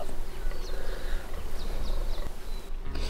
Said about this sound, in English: There's a fellow buck somewhere just below us, just croaking his tits off.